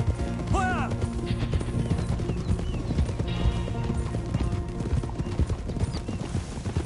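Horse hooves clip-clop steadily on the ground in Red Dead Redemption 2, riding up to the stables, with a brief whinny near the start over a busy bed of game music and ambience.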